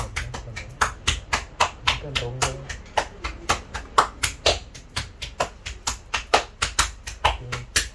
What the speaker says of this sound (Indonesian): Kemudian gerakan tepukan